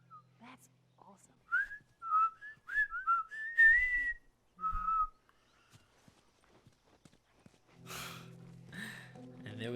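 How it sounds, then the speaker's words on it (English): A video game character in The Last of Us whistles a short, tuneful melody in several bursts, followed by horse hooves clip-clopping, a snort and faint footsteps in a quiet scene. "I'm whistling"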